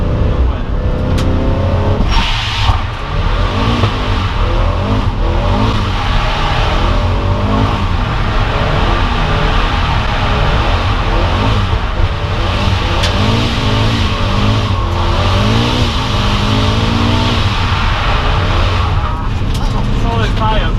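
A Toyota GT86 drifts on the Rockingham infield track, its engine loud and roaring constantly with tyre noise, while people talk over it.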